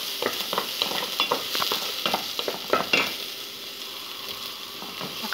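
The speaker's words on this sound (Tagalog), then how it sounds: "Gisahin ang bawang, sibuyas at luya." Garlic, onion and ginger sautéing in a pan for chicken tinola, a crackling sizzle with rapid scraping stir strokes that ease off toward the end, no talking.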